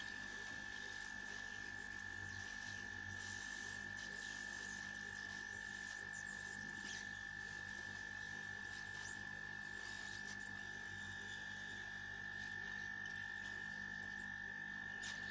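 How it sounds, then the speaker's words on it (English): A hot air rework blower heats a component on a circuit board during a short-circuit repair on a power line, giving a steady, faint airy hiss with a thin constant whine throughout and no talking. "Keep the blower in left hand."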